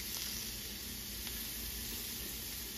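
Butter sizzling in a pan while northern pike cooks, a steady soft hiss with faint crackles throughout, close and fairly quiet.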